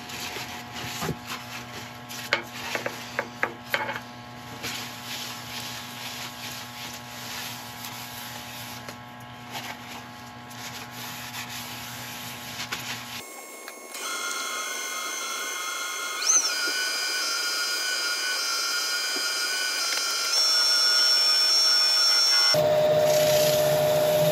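A turned wooden piece spins on a woodturning lathe during its final polish. Scraping and rubbing come first, then a steady high whirring motor hum that shifts in pitch and grows louder, cutting off abruptly near the end.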